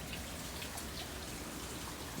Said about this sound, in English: If we go outdoors, yeah, it's raining heavily